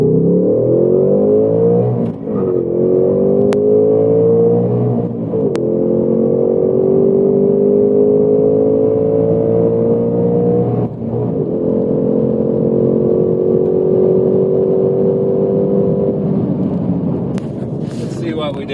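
A stock 2024 Ford Mustang S650 with a manual gearbox accelerates hard on a test run, its engine loud and close, rising in pitch through each gear with brief dips at the shifts.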